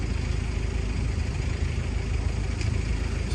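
A heavy truck idles nearby with a steady, continuous low diesel rumble that holds level throughout, with no voices over it.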